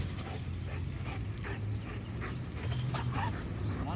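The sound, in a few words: Cane Corso dog barking during bite work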